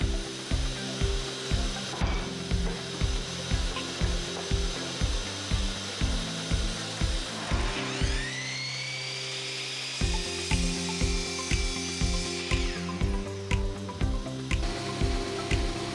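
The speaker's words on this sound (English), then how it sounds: "Cutting the frame pieces down to their size." Marri wood frame pieces for a tea serving tray, one containing rockwood, are cut to size with a power saw. Steady, evenly spaced strokes run throughout, pausing briefly midway while a high whine rises and then fades.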